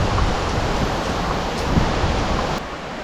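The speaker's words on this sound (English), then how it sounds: "And there we are, the River Greta. Quite summertime peaceful, although you can certainly hear it." The River Greta flows in summer near the Keswick to Threlkeld railway path, a steady, full rushing wash of water heard up close and without pause, with no voices.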